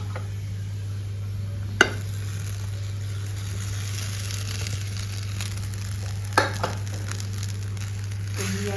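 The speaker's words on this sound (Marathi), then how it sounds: "आता मी साबुदाणा घालते" Sago pearls go into hot oil in a pan for sabudana khichdi, giving a steady, close frying sizzle under a constant low hum, with a few sharp clicks as the pearls are stirred.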